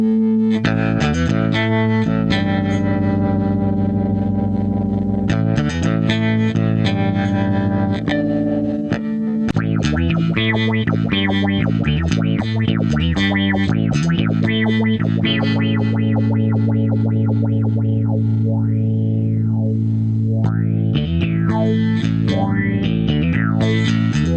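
Bass guitar played through an old amp with vibrato effect, sustained notes and a riff with wavering, pulsing tone, continuous and loud with no talking.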